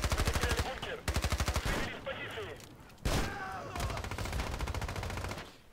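Rapid automatic MP5 fire in a video game, loud bursts repeating through the clip with short pauses between them, and quieter game sounds in the gaps.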